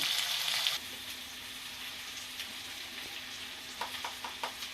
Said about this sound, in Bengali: বন্ধুরা একটু ভাজা ভাজা করে নিলাম পেঁয়াজটা